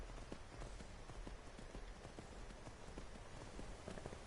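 Horse hooves from the video game Skyrim clop in a quick, steady rhythm on a hard surface, fairly faint, over a constant hissy background with no voices.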